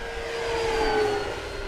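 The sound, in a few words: FMS 1700mm Corsair V3 RC airplane flying on 6S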